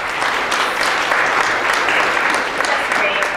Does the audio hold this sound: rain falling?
no